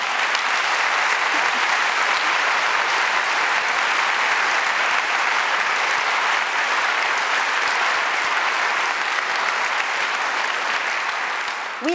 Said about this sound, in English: Please clap for our professors.